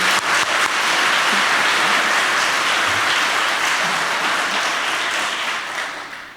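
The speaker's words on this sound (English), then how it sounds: "Please join me in giving them a round of applause." A roomful of attendees at an annual meeting claps for the staff, broad sustained applause that stays full and steady before thinning out toward the end.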